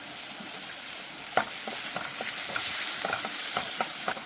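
Ginger garlic paste, green chilli and curry leaves frying in oil for a quail and millet biryani: a bright, steady sizzle with repeated scraping stirs of a spoon in the pan, close and moderately quiet, no talking.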